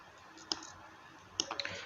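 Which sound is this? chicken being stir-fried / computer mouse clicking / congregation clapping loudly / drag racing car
computer mouse clicking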